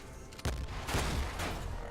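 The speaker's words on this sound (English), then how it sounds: "So I'm going to fire my shot cannon here." A shot cannon fires in the mech combat game Ironcast, giving a series of loud booming blasts in quick succession with rumbling tails.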